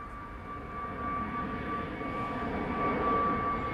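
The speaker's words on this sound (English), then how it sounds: "The C-17 is approaching, but there's also a Ukrainian A319." A C-17 military transport jet on approach to runway 22 at Schiphol produces a steady distant engine roar with a faint whining tone that slowly swells in loudness; no voices.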